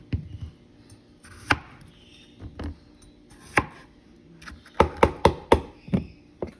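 A knife chops vegetables for a pot roast into quarters on a cutting board: scattered sharp knocks, then a quick run of about five crisp chops close up, with no talking.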